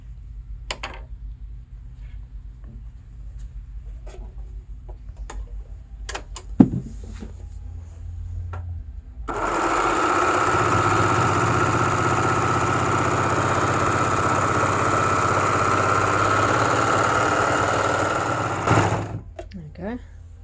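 A Babylock Victory overlocker running a narrow three-thread stitch whirs in a loud continuous buzz for about ten seconds, preceded by quiet handling clicks and a sharp knock, then stops abruptly.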